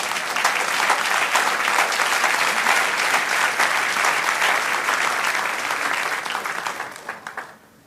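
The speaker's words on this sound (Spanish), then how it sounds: "Denle un aplauso al Señor." Sustained applause from a church congregation praising the Lord fills the room, dense and steady for several seconds before thinning into a few scattered claps and fading out.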